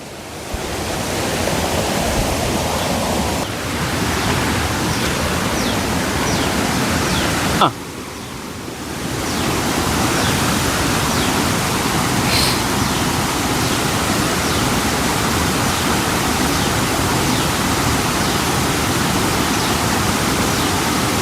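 Water rushing down between forested hills in the Karregutta area toward a jungle waterfall, a loud continuous broadband roar, steady and close, with one brief drop partway through.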